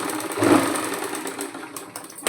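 A sewing machine stitches a blouse hem with a soft rapid mechanical whir, heard up close and steady.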